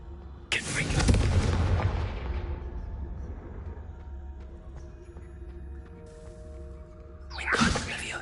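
A Confringo fire spell explodes in Hogwarts Legacy, a heavy boom that rumbles and fades over several seconds, followed by another burst near the end.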